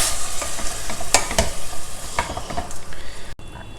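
Finely chopped ripe tomatoes being stir-fried in a pan for tomato poha, a sizzle punctuated by quick scraping stirs and spatula knocks, close and uneven, with no voices.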